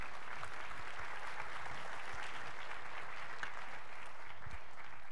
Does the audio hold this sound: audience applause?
yes